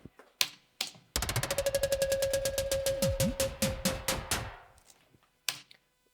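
An unprocessed effect sound from the Serum software synthesizer, heard alone: a fast burst of sharp repeated clicks that rattles quickly and then slows and fades, with a steady whistling tone beneath and a few isolated clicks before and after.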